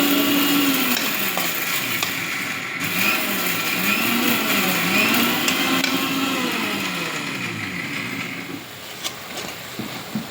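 A mixer grinder grinding roasted peanuts whirs loudly for several seconds, its motor pitch wavering as the contents churn, then winding down near the end.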